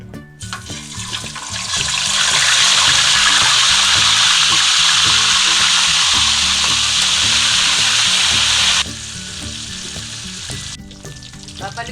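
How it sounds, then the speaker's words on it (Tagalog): Two tilapia hit hot cooking oil in a pan, a loud, steady hiss and crackle that swells quickly and sizzles continuously for several seconds before dropping to a softer fry. "Mainit na po yung mantika. Ilalagay na po natin yung ating 2 tilapia."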